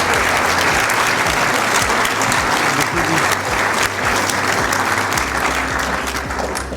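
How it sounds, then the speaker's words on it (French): An audience applauds at a mayor's New Year address to residents, a dense, sustained wash of clapping that carries on steadily for several seconds before easing slightly. "Vous aviez le droit de les applaudir aussi."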